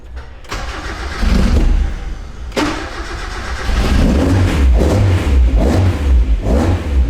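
A race car engine cranks and catches after a throttle relearn, firing up loud and close, then revving in repeated surges over a rough idle.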